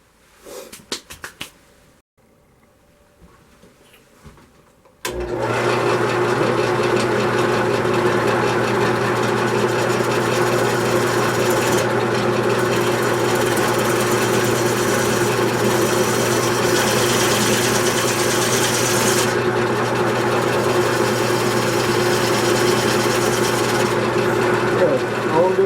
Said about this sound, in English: Now I'm gonna start cutting in my tenon here.